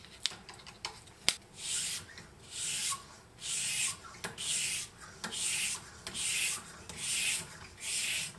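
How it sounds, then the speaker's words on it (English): A convex tracker-style knife blade is drawn across a 1200 grit sharpening stone in regular back-and-forth strokes, each a soft rasping swish, repeating about once per second after a few clicks at the start. "first I'm just using my 240 sharpening stone"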